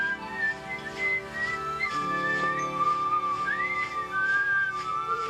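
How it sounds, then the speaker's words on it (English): A person whistles a lilting tune in clear, sustained notes with slides between pitches, heard over a soft musical backing that runs throughout. "leapt out of his bed with a smile in his eye and whistled hello to the birds in the sky"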